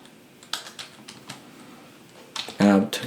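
Someone types a terminal command on a computer keyboard while setting up a Raspberry Pi 4 starter kit: a run of light, separate key taps, then a louder burst of clacks near the end.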